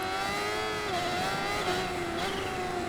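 Kawasaki Ninja H2R motorcycle engine in the video game Ride 4, a steady high-pitched whining drone held at speed with slight pitch dips as the bike shifts, continuous and fairly quiet.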